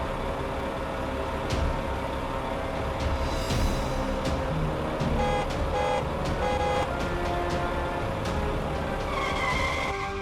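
A cartoon truck rolls through city traffic, its engine drone steady and loud throughout, mixed with tire squeals, passing car whooshes and horn-like tones near the end.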